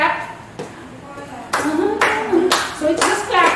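Sharp hand claps struck in step with a steady beat during a fitness routine, loud and near, landing at regular intervals over a voice singing or chanting along.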